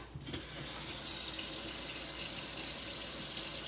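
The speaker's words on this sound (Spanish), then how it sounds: "Vamos a echarle tantita agua" A steady stream of water pours continuously into a blender, a soft rushing splash that stays even throughout, fairly quiet and close.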